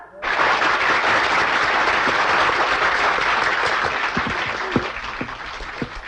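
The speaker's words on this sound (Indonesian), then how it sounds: "Tepuk tangan saudara-saudara." A large audience gives loud, dense, sustained applause as a woman engineer is invited forward to sing, the crowd's clapping filling the space before thinning slightly toward the end.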